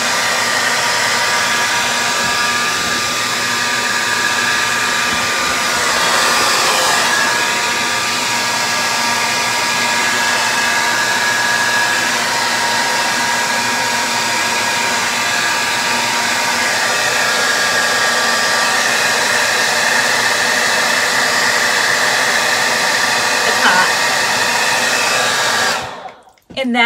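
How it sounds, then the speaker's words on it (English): A blow dryer runs continuously at close range, a steady loud whooshing hum with a faint whine, cutting off abruptly at the very end. "Turn the blow dryer on, which I'm going to do"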